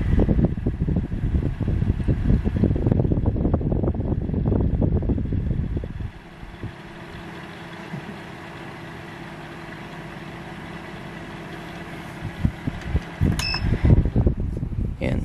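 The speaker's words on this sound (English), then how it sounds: "maririnig nyo yung wind noise, yung buga ng electric fan mismo." Steady whooshing wind noise from an electric fan blowing straight into the built-in microphone of a Canon M50 camera, a loud rumbling buffet that drops abruptly after about six seconds to a quieter hiss.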